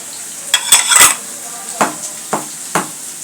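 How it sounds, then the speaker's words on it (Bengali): Chopped onion tipped into a pan of taro stems and stirred with a utensil, giving a short burst of clatter and scraping followed by several separate spoon knocks against the pan, close and fairly loud. "তারপর দিয়ে নেব পেঁয়াজ কুচি"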